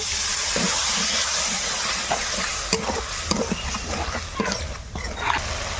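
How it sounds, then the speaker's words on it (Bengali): Spice paste of tomato and dry chilli powder sautéing in a pan with added water, a steady close frying hiss broken by scattered stirring scrapes and clicks, with no voices. "এবার জল দিয়ে মশলা ভালো করে কষিয়ে নেব"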